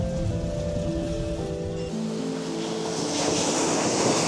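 Ocean surf rolls against the shore at Jocheon harbour on Jeju, a continuous loud wash of breaking water with wind noise and a low rumble beneath.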